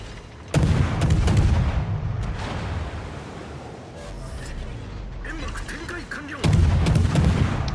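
Naval guns firing in a warship video game featuring the destroyer Shimakaze: two heavy booming salvos, one near the start and one near the end, separated by a lingering mechanical rumble.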